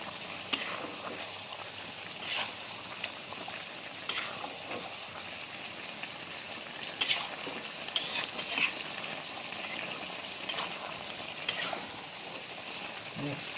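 Spiced blackbuck meat fries steadily in a pan, a continuous close sizzle broken by repeated scraping stirs and occasional utensil clinks, with no voices.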